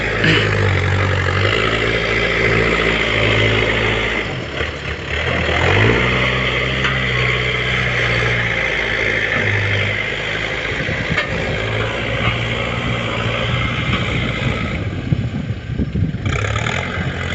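A vehicle's engine runs loud and close in second gear with no throttle while it rolls along a flat track, droning steadily with slight dips and surges and no speech.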